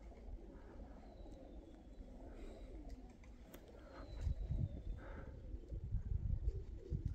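Domestic pigeons cooing in a Polish loft, soft low repeated coos under steady background hum, with a louder burst of fluttering and cooing in the last few seconds.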